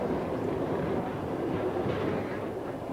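Steady rumbling ride aboard a train heading east toward Kazakhstan, with continuous wheel-and-track noise and faint clickety-clack, constant and close throughout, with no talk.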